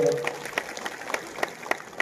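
An audience at a public gathering claps in thanks, producing a scattered run of sharp hand claps in a quick, uneven rhythm that carries through the moment without speech.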